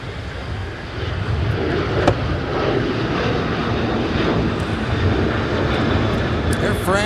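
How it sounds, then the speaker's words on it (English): Air France Boeing 777-300ER arriving at Los Angeles LAX, a sustained, fairly loud jet engine rumble holding steady throughout, with faint scattered clicks on top. "Air France coming in with a 777-300ER."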